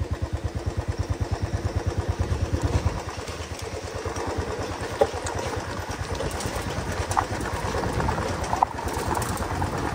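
A motorcycle ridden off-road on a rough trail near Chikmagalur's Kudremukh waterfalls, its engine pulsing in a fast, close, steady throb with rattling clatter over the bumps and no voices.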